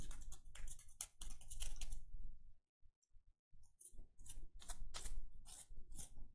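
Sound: cleaning dirt out of HP laptop keyboard keys

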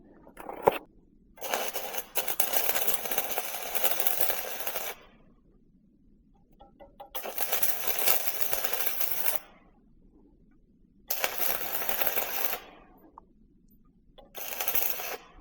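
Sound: welding electrode arc being struck and re-ignited

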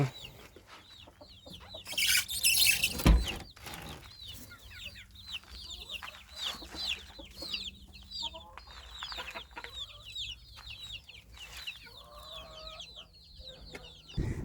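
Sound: young hens clucking

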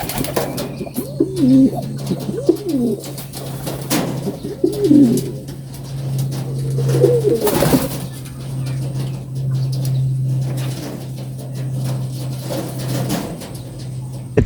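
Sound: racing pigeons cooing

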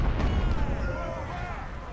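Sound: gunfire in the Ultimate General: Civil War video game

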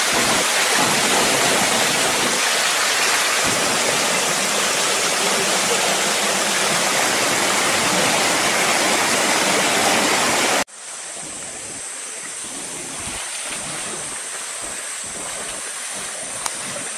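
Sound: small waterfall on a river

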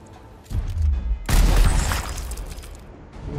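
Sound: single gunshot in the video game Gears Tactics

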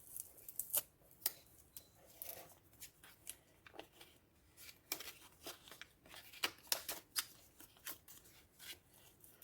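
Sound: opening a paper packet

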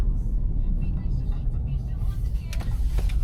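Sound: Kia K5 taxi car driving

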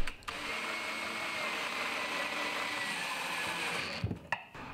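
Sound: drill driving pocket hole screws into wooden bookshelf frame

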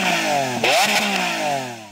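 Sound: Lamborghini Aventador SV exhaust revving

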